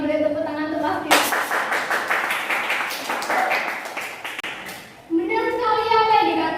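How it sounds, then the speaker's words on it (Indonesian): A classroom of students claps for a classmate. A burst of fairly close applause comes between stretches of talking. "beri tepuk tangan untuk Mas Kris"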